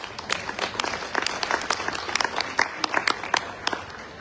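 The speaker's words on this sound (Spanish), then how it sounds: "Fuerte aplauso, por favor." Applause from an audience at a book collection presentation in an auditorium: a steady patter of many hands clapping at moderate distance, even and sustained for a few seconds with no talk over it.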